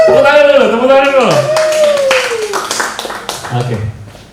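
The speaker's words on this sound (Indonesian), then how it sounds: "Tepuk tangan dulu." At a church youth service, a voice sings or calls out over the crowd, and then the audience breaks into a burst of hand clapping with quick, sharp claps that fade out.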